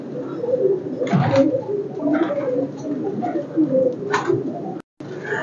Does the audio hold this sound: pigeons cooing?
yes